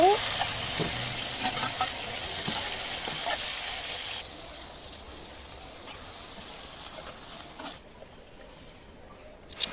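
A curry of tomato, onion and chillies fries loudly in a pan, giving a dense, continuous sizzle with occasional stirring scrapes that eases off a little toward the end, with no voices.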